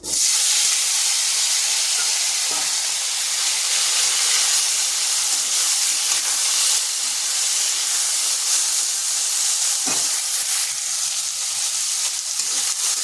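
Potatoes cut into long strips hit hot oil seasoned with dried chilli and nigella seeds, giving a loud, dense, continuous hiss and sizzle that stays strong throughout, with a couple of brief stirring disturbances and no talking.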